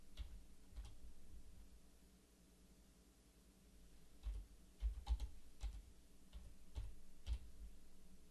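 Typing on a computer keyboard to search for a bed while drawing a floor plan: a quiet stretch, then irregular bursts of light, close keystrokes.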